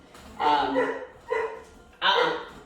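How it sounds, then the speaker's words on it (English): A dog barks in three loud bursts, close by, with short gaps between them, during a dog training session. "Sorry about the barking, that dog wants to play with Willow."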